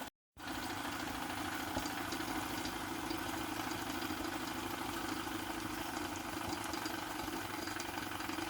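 A Retrol SE-03 live steam engine drives a miniature workshop drill boring into a piece of pine, giving a steady, close, continuous mechanical churn under load that runs evenly throughout with no talking.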